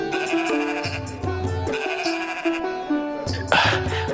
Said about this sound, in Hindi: ये भेड़ें तो बड़ी ही अच्छी नस्ल की लग रही हैं।